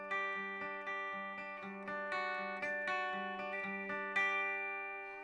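Clean tone from a Nash T-57 Telecaster electric guitar played through a Morgan RCA35 amp: a steady run of plucked notes and chords, each attack ringing out clearly, with no voices.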